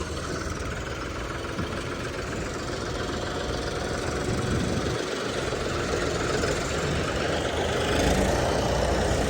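A steady, rumbling tractor diesel engine idles nearby, its low knocking drone continuous and unchanging throughout.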